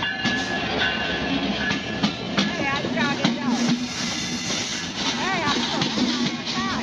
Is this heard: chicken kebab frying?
no